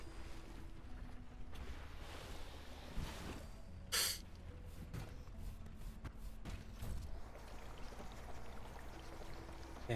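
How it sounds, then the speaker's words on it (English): Water gets slurped up in the video game Lightyear Frontier: a soft, washy stream of water sound, with one short loud sucking rush in the middle, over a steady low background. "And slurp up that water."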